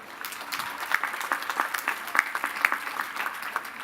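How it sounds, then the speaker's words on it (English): A large crowd at the Lehman College class of 2018 commencement ceremony applauds in a broad, continuous wash of clapping, with a few sharper individual claps standing out near the microphone. "Give them applause."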